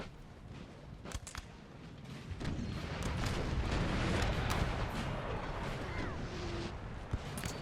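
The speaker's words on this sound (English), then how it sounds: "A massive artillery battery duel going on." Artillery fires in a Napoleonic Total War battle, a dense rumbling barrage of booms and distant cannon blasts rolling together, with scattered sharper shots over a continuous din.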